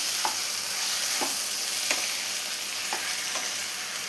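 Boiled tapioca with chilli and spices is stirred in a frying pan, a steady close sizzle broken by several soft, spaced scrapes of the spoon against the pan.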